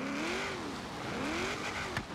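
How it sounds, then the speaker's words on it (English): Holden FX V8 engine in Forza Horizon 3, a classic car at the start of a mountain hill climb, holding a steady, loud growling drone whose pitch rises and falls twice over a couple of seconds, with no talk. "Sounds quite beastly with that V8."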